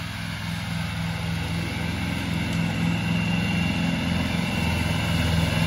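A riding lawn mower, driven by a learner into a shop, hums with a steady low engine drone that holds even and fairly loud throughout, with no voices.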